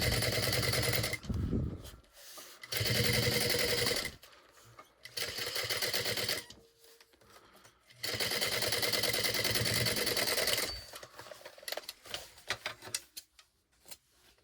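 Sewing machine stitching a backpack lining at a long stitch length, running in several loud bursts of rapid mechanical whirring separated by short pauses, close by with no talk.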